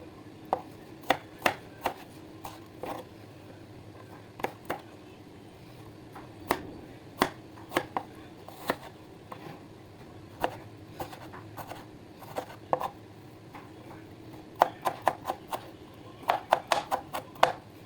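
A knife chopping a vegetable on a cutting board during home cooking, sharp single taps spaced irregularly with a quick flurry of cuts near the end, close and clear.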